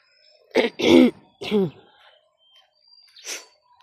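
A person coughs and clears their throat in a few harsh bursts close to the microphone, with brief pauses and a softer final hack.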